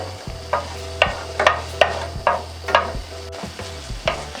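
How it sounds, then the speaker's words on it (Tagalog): Garlic sautéing in hot oil in a pan sizzles steadily, with a series of close, rhythmic scraping stir strokes roughly every half second over the frying hiss. "Ngayon po na mainit na yung ating mantika, ay pwede na nating gisahin itong ating bawang"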